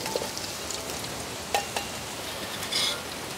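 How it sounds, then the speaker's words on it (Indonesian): Small flour-coated wader fish fry in oil, a steady soft sizzle and hiss close by with a few faint pops and clinks. "Kalau buat goreng ikan kayak gini ya, dibuat goreng 1-2 kali sudah hitam"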